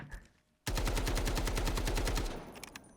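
Unmodified AKM rifle in Delta Force firing one loud, close automatic burst of roughly eighteen evenly spaced shots over nearly two seconds, with quieter game sounds before and after.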